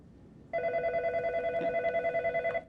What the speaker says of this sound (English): I'm going to call you right now using this Sprint PCS phone.